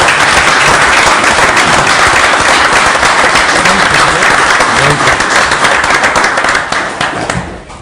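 An audience at a Bethel Park council meeting applauds an officer's promotion to Major, loud continuous clapping from a packed room that tapers off near the end.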